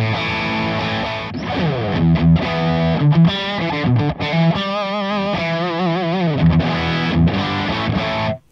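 Electric guitar played through a V4 amp via a Quad Cortex with all settings at noon and reverb dialed back, giving a continuous distorted, effected tone with sustained chords and melodic bends, loud and alone.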